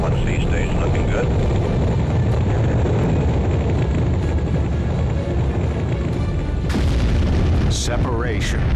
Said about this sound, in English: We have ignition.